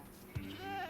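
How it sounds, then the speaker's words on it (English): A goat named Henry bleating in the farming video game Sunlit Valley, one short, faint, wavering bleat over a quiet game backdrop. "There's Henry the goat."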